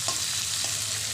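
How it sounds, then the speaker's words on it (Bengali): Shrimp and raw jackfruit fry in a pan, giving a brief, steady close sizzle with a couple of soft stirring scrapes, and no voices. "তো এখন দিয়ে দেব চিংড়িটা দিয়ে একটু নাড়াচাড়া করে"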